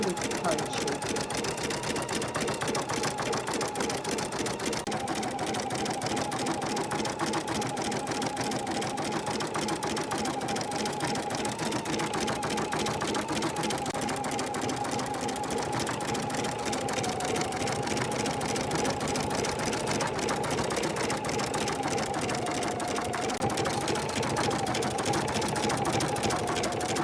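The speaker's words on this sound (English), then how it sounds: "The embroidery for the shell comes next" Steady, fast mechanical whirring and needle chatter from an embroidery machine stitching a seashell design in the hoop, running continuously and evenly at close range throughout.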